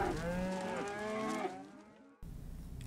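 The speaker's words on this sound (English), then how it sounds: "Cow." A cow gives one long, loud, close moo that slowly drops in pitch, then fades out before steady background noise returns.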